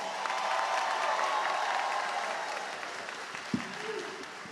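A commencement audience gives a round of applause for the 2024 graduates of the Cleveland School of the Arts, a broad, sustained crowd clapping that gradually tapers, with a sharp knock near the end.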